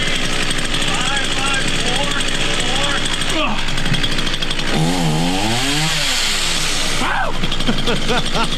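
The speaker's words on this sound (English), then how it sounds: "I don't know why the guy said lawnmower because it was a chainsaw." A running chainsaw roars loudly and continuously during a chin-balancing stunt, with shouting voices and crowd noise mixed over the engine.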